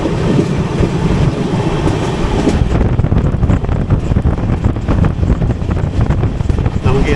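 Pragati Express passenger train running through a tunnel, a loud, continuous rumbling roar of wheels and rushing air with dense rattling texture that grows rougher partway through.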